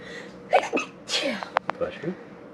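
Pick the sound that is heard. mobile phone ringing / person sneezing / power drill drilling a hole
person sneezing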